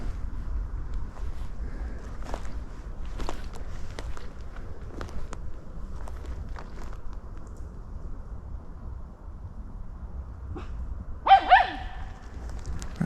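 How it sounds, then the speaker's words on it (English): A dog barks a couple of times in quick succession near the end, fairly close and loud against a quiet outdoor backdrop with light wind and faint footsteps. "Perhaps not when there's a noise of dog activity."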